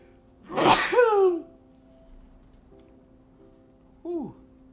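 A single loud, close human sneeze bursts out early, followed by a faint strained groan and a short pained vocal sound a few seconds later.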